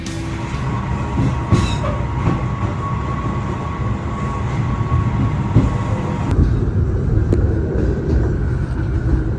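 Gumarang passenger train running on rails in Indonesia, a continuous rumble of wheels on track heard from aboard, with clicks and a brief whistle-like squeal early, the tone shifting and quieting near the end.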